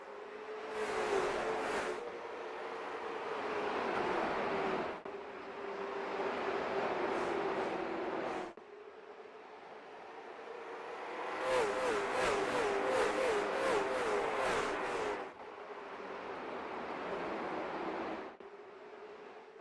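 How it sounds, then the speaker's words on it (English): Short track stock car motors running laps at USA International Speedway: engines roar past in repeated waves, rising and fading as cars sweep by, with a sustained droning tone and a louder pack pass near the middle, no talk. "You get to hear these motors purr around here at the USA International Speedway"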